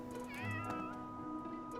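A cat in the video game Fire Emblem: Three Houses gives a single clear, drawn-out meow, close and moderately loud over a steady background music hum.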